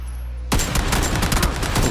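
Gunfire in the video game PUBG: a sudden loud burst of rapid shots starting midway, dense crackling reports in quick succession that keep going to the end, with no talk over it.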